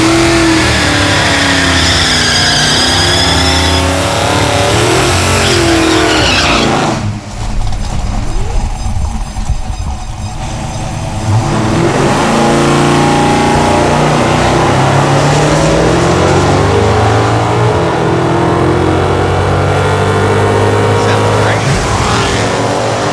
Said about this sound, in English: 2 passes in a row all the way down the drag strip with no fire.